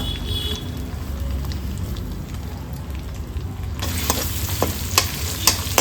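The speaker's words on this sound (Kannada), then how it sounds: "ಎಣ್ಣೆಗೆ ಹಾಕ್ಕೊಂಡು ಫ್ರೈ ಮಾಡ್ಕೊಳ್ಳೋಣ" Chopped garlic, ginger and green and red chillies fry in hot oil with a dense continuous sizzle that swells louder and crackles sharper partway through, with no voices.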